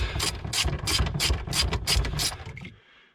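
A ratchet on a long extension loosens 10mm bolts on a 2011 Scion xB during a radio install, a rapid run of loud, close clicks in pulsing bursts that stops abruptly.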